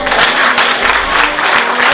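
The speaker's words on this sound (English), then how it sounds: "Clap for him." Audience at a nursing research workshop clapping loudly and continuously, close and dense for the whole short stretch.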